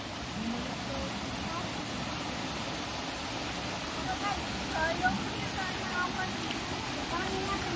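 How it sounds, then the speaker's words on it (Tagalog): Rushing river water roars steadily with a broad, continuous wash, and faint voices are audible beneath the flow. "delikado na ang tubig, iba yung galaw, oh. Pag ganyan, pabugso-bugso ang tubig."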